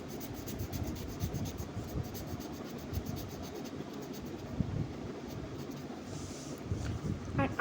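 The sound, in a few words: sketch pen drawing on paper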